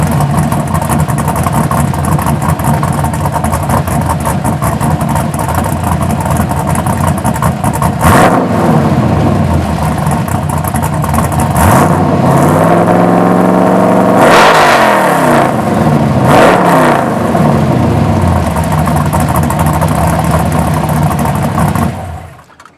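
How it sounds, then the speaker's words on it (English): A 1983 Buick Regal with an LS swap and SLP bullet mufflers idles steadily and loudly up close, then is blipped through several quick revs that rise and fall before settling back to idle. "Let me give it a see if I can give y'all a little quick rev of it."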